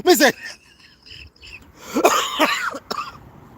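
A man coughs and clears his throat in a few rough, close bursts with short pauses between them, loud and dry against a quiet background.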